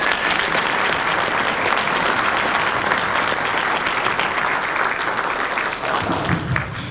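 Loud, sustained applause from a political candidate forum audience in Braham, Minnesota, a dense wash of clapping that runs steadily for the full stretch without pause.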